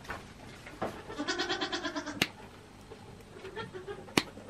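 A goat bleats in a wavering, quivering cry close by, with a couple of sharp clicks and quieter bleating afterward.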